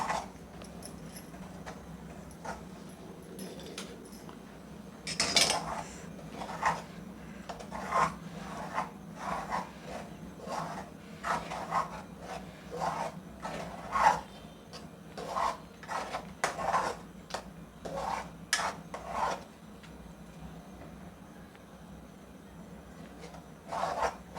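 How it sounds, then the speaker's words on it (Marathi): A spoon scrapes and stirs a besan flour mixture in ghee in a pan over a low flame, soft rasping strokes repeating in a loose rhythm with no talk. "आता हे मिश्रण मी असं ढवळून घेते"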